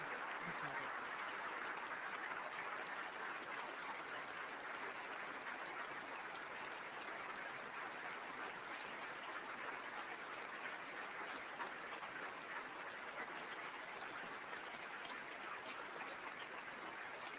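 Sustained applause from guests in Oslo City Hall after the Nobel Peace Prize lecture, a dense even roar of clapping heard from a distance, continuing steadily throughout.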